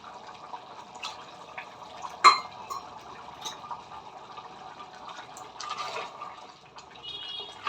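Water poured into a pot of washed rice on the stove for mutton biryani, a faint, steady trickle and splash with a brief louder splash near the start, no voices.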